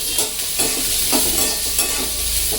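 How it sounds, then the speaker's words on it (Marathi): Loud sizzling of onions frying in a pan with occasional spoon scrapes as they're stirred, continuous and close, no talking. "कांदा सुद्धा चांगला असा लाल होईपर्यंत भाजायचा"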